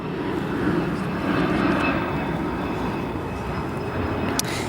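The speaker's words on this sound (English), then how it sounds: "This departure now heading off to Fort Wayne, a CRJ 200 long range." A SkyWest CRJ 200 regional jet departs O'Hare, sending a broad, continuous engine roar from a distance that holds steady throughout with no voices over it.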